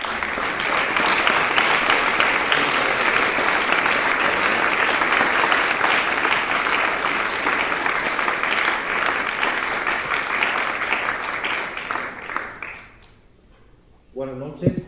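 A large audience at the launch of an issue of a magazine bursts into loud, sustained applause welcoming a team of priests, a dense steady roar of clapping that fades out near the end.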